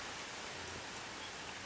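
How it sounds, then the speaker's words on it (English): Steady rain falls outside on a tropical island, a soft, even hiss with no individual drops standing out, holding at a constant low level for the whole moment. "Listen to the rain."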